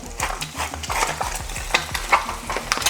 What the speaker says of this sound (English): Pour your old broken eggs in there. They sound very lively.